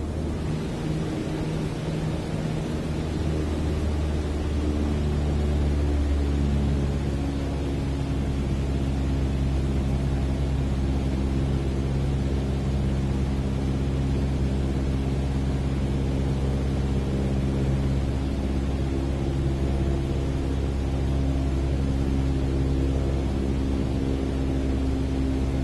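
A propeller aircraft engine descending in Microsoft Flight Simulator 2020, a constant droning hum with steady tonal layers and wind rush, the pitch easing slightly lower as the throttle is reduced.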